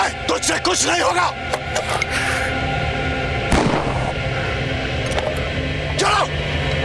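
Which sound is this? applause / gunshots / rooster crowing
gunshots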